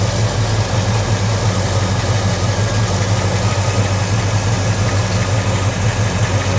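A 1967 Plymouth Belvedere 440 big block V8 idles quietly and smoothly, a steady low rumble with even pulses held at constant level throughout, close up with no other sounds.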